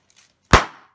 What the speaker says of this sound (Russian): Взрывание пупырышек.